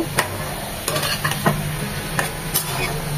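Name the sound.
jute leaves frying and being stirred in a pan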